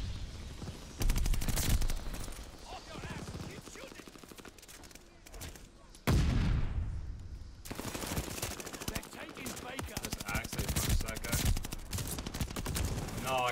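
Rapid automatic gunfire from a Call of Duty Vanguard match, with dense bursts of shots and short pauses, loud and close, under talking players.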